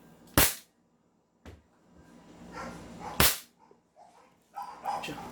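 An airsoft gun fires through a chronograph in two sharp, loud cracks a few seconds apart, with a softer snap between them and low handling noise and background murmur after each shot.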